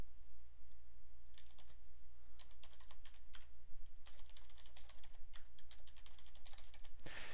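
Rapid bursts of keystrokes on a computer keyboard as a password is entered during a software installation, irregular clusters of light clicks against a steady low hum, close and moderately quiet with no talk.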